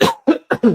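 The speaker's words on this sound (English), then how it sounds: "a little cough" Short, close, loud cough in a few quick bursts, over within a second, from a person during a conversation about modern medicine.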